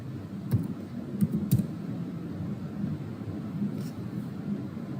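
Someone types numbers on a computer keyboard, a few soft, sparse key clicks in small clusters over a low background hum.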